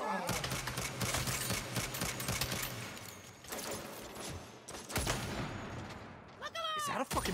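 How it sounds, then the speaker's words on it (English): A minigun in the Saints Row video game fires a long, rapid buzzing stream of shots, cutting out midway and then resuming, with someone talking over parts of it. "That is a fucking minigun."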